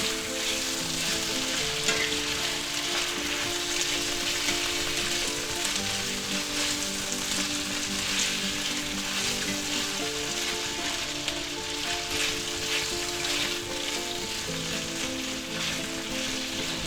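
Thin-sliced marinated beef sizzles and fries steadily in a hot pan, with a constant crackling hiss and occasional scraping from stirring, close and continuous with no voices.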